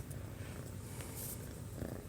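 A curious cat purrs near a drain pan in a garage during a Ford Bronco 400 engine teardown, giving a soft, continuous rumbling purr with faint rustling.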